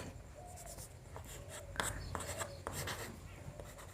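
Pen scratching across paper while handwriting an English translation passage makes soft strokes and short scrapes in an irregular rhythm, quiet and close, with a few sharper taps between strokes and no talking.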